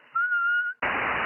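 A steady whistle sent into a 2-meter ham radio rings out as a single clear sustained tone for about half a second, then cuts off into a burst of loud radio static hiss.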